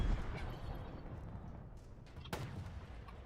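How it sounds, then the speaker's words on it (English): A Scorpion tank's cannon fires in the video game Halo Infinite, a deep booming blast at the start that rolls off, then a second sharp crack later, fairly faint overall with heavy bass. "There's so much bass in the Scorpion tank's cannon."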